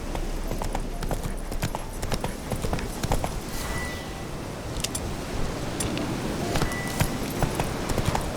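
Roach, the horse in The Witcher 3, galloping fast. Dense, rapid hoofbeats pound steadily throughout over outdoor game ambience.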